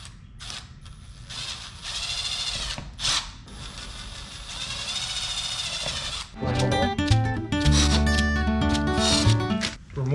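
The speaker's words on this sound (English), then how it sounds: "I'm gonna drill them." A Milwaukee power drill runs in bursts while boring pilot holes through a Polaris Ranger door for a Northstar sideview mirror install, its rising motor whine mixed with clattering, ratcheting mechanical noise, close and fairly loud.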